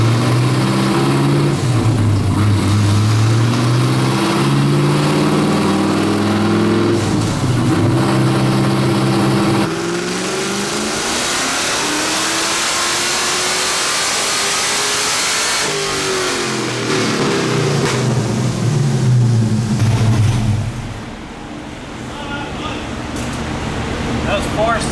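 An LS3 V8 swapped into a Mazda Miata revs hard on a dyno, the loud engine note climbing steadily through a long pull, dipping and rising again before fading off near the end, with some talk underneath.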